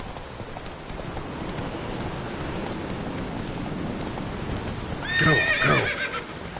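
Roach, a horse in The Witcher 3, gallops with rhythmic clip-clop hooves through rain, then lets out a loud whinny near the end while a voice speaks briefly.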